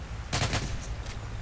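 Gunfire in the video game Call of Duty MW3: a short, loud automatic burst of several rapid shots, then a faint extra report, with no talking over it.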